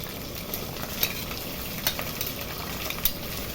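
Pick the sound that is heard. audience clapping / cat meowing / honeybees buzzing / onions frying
onions frying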